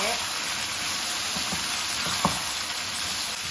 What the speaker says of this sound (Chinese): 把我们切好的西瓜给它倒进来，然后给它翻炒均匀